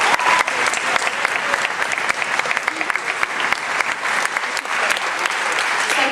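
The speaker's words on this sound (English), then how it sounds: "Let's give them a round of applause." Audience applause at a school concert, a steady dense wash of clapping from a large crowd that holds loud and even throughout.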